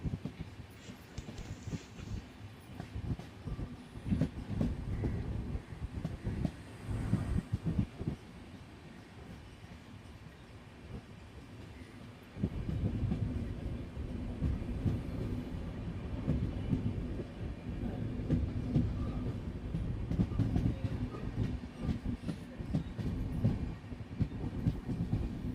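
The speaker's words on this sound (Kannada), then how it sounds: "ನಮ್ಮ ಟ್ರೈನ್ ಈಗ ಖಾನಾಪುರ ರೈಲ್ವೆ ಸ್ಟೇಷನ್ಗೆ ಎಂಟ್ರಿ ಆಗಿದೆ." The Rani Chennamma Express rolls along near Khanapur, a low steady rumble of wheels and carriages that drops quieter midway, then swells louder again with faint clatter throughout.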